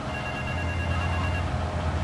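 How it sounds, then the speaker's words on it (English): A telephone rings in the video game Grand Theft Auto 3, a steady electronic ring tone heard close and clear for the whole short stretch over low background game ambience. "phone's ringing."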